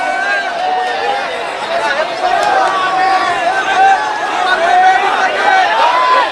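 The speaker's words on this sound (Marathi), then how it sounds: "या ठिकाणी गर्दी खूप आहे" A large, dense crowd chatters at a packed political rally stage, a loud continuous babble of many overlapping voices all around, with an amplified voice rising above it.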